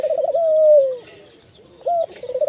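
Hill doves coo loudly and close by in a cage, a long drawn-out call followed by shorter rolling coos.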